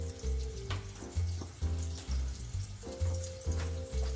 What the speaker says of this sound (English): Just pick a little piece, cook it off, and taste it and see how well it tastes